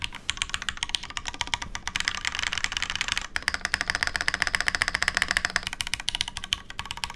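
Steady, dense keystrokes on a Type-K prototype mechanical keyboard, close and clear, with a slightly hollow tone and continuous rhythm across the whole stretch and a brief pause midway, no voices.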